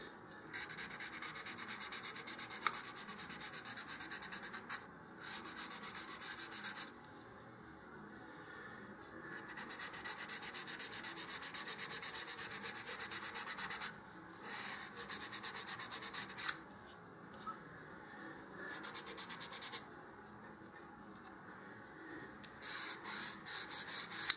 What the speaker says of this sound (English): sand lightly along those lines to roughen up the glassine there and give us a better gluing surface